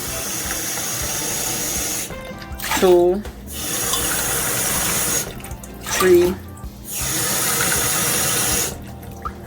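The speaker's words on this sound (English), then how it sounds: "Add 4 cups of water." Steady running water streams into a pot of rinsed rice, broken twice by a person counting aloud over the flow.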